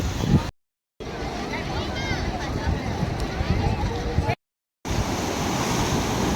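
Big ocean waves break and surge on Dhanushkodi beach, a steady loud roar of surf with wind buffeting the microphone, cut by two short gaps of silence.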